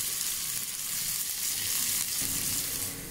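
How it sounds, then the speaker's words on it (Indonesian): Ginger, garlic and shallots sauté in hot oil, giving a loud, continuous hiss and sizzle with no speech. "lepas itu kasih masuk itu halia, bawang putih sama bawang merah. Terus kasih tumis ini sampai jadi wangi"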